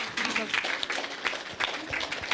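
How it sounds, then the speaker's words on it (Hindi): An audience at an indoor spiritual festival's inaugural session claps to welcome a speaker, a dense, steady burst of applause filling the whole moment. "जोरदार तालियों के साथ विज्ञानाचार्य जी का स्वागत।"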